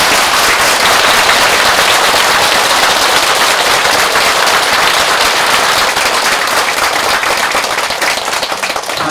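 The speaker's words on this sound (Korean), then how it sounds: "우리 법상 스님에게 더 큰 원력 가지시라고 박수 한번 보내드립니다." Loud, dense applause from the assembly at a Buddhist dharma gathering closing a ten-year practice retreat, a continuous roaring clatter of many hands that holds steady and barely tapers near the end, with no talking.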